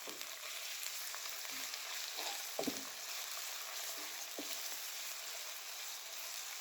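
Small pieces of chicken fry in a pan with a faint, even sizzle. A few light stirring knocks stand out, and no one speaks.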